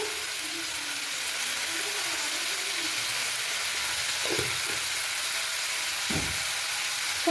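Tomatoes frying with salt in a pan, with mint leaves, for an egg dum biryani, give a steady, even sizzle throughout, with a couple of brief louder bursts partway through.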